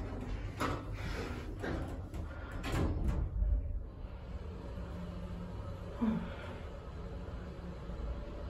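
A sliding door grinds and knocks as it jams on debris caught in its track, giving a few loud scraping bursts in the first four seconds, then a low steady hum with one more brief bump.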